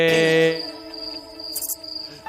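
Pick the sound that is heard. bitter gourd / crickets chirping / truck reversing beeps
crickets chirping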